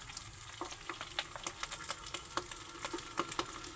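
Shrimp paste with pepper sautéing in rendered pork fat, giving a steady close sizzle with scattered pops and crackles and light clicks of stirring throughout.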